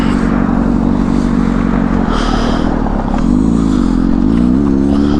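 Motorcycle engine idling loudly and close after starting, a steady throbbing rumble with slight rises in revs toward the end, no voices.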